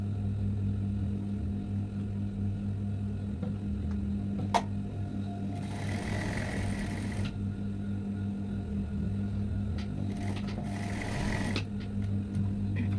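A sewing machine stitches a blouse lining along the side onto the blouse piece, giving a steady, close mechanical drone with a low hum throughout and a couple of brief whirring bursts, with no talking.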